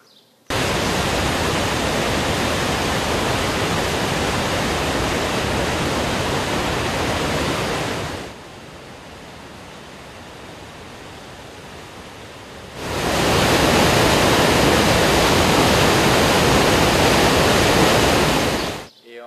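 Roaring rush of the Rhine Falls waterfall in Switzerland, a dense broadband wash that runs steady, softens for several seconds as if further off, then swells back louder and closer.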